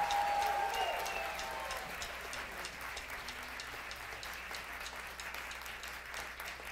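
A show audience gives heated applause for a singer, a fairly soft, dense, rain-like patter of many hands. A brief high cheer or whistle rises at the start before the clapping settles into a steady wash.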